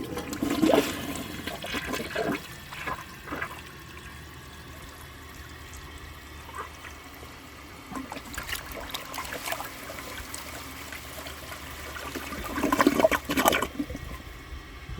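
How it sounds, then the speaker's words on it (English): A 1991 Kohler Wellworth toilet flushes in a quiet room, with a rushing surge early, a long trickling refill in the middle and another swell of water near the end, moderately close. "So I'm going to flush it just to put some water in the bowl"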